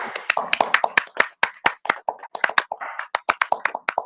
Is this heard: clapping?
yes